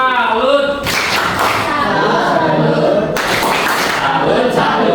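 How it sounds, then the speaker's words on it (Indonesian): A classroom group performs a "tepuk salut" salute clap, two bursts of sharp rhythmic claps and thumps while voices chant along, loud and close. "kasih tepuk salut dulu ya untuk kelompok 2 ya"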